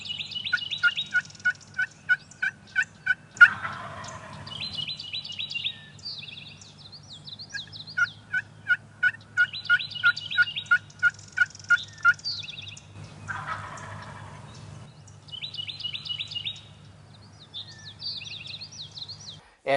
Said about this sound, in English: he was double gobbling to our calls